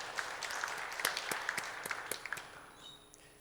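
A church congregation offers light, scattered applause for a praise choir; a handful of distinct claps stand out over a thin, sparse patter that fades toward the end.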